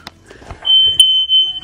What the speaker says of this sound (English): The fire alarm here.